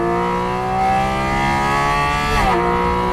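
A Porsche Cayman GT4 RS with a 493 bhp GT3 engine sings with a loud, intake-dominated tone that holds steady under load, then the pitch shifts sharply as the revs change.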